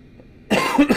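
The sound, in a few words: coughing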